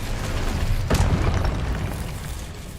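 Spell blasts in Hogwarts Legacy, Incendio and Expelliarmus, cast one after another as a single loud booming burst near the middle, over a dense rumbling game soundscape, with no voice.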